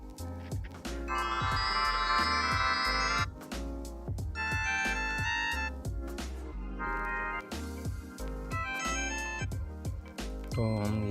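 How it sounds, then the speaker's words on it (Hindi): A T55+ smart watch plays a loud, bright electronic ringtone melody, a run of chiming tonal phrases over a pulsing beat that repeats with short pauses between them. "इसमें तकरीबन 5 रिंगटोन्स हैं, जो आप रखना चाहें रख सकते हैं, लेकिन इसकी पहली वाली में आवाज़ थोड़ी ज़्यादा है"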